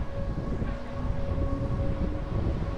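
The Bernina Express rolls along narrow gauge track through the Swiss Alps, a steady low rumble with a faint sustained whine, continuous and fairly distant, no voices.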